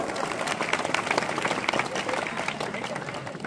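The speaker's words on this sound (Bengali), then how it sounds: "একটা জোরে হাততালি সুভাষের জন্য" An audience at the Gobindapur Chhau dance fair applauds for Subhash, a dense, continuous burst of many hands clapping that stays loud and even throughout.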